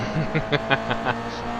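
A Toyota GR86 race car in a sim racing game brakes hard, with a run of short rhythmic chirps and squeals over a steady engine note, close and moderately loud, without voices.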